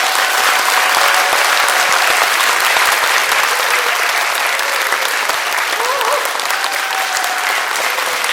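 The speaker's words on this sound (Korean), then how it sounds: "힘찬 박수로 모시겠습니다." A large audience at a public lecture academy bursts into loud, sustained applause that holds steady and dense throughout, welcoming a former Cultural Heritage Administration head as lecturer.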